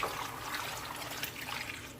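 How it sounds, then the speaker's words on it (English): Coconut milk pours into a pot of steamed shrimp and mussels with a soft, steady liquid trickle, faint and close, lasting about two seconds with no talking. "Now I'm gonna pour my coconut milk."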